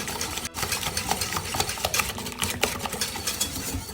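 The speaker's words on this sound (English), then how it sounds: "we'll begin whisking everything together until it becomes like a pale yellow" Steady, busy whisking of egg yolks, vanilla and sugar in a bowl for crème caramel custard, with continuous rapid scraping strokes heard close and moderately loud, no one speaking.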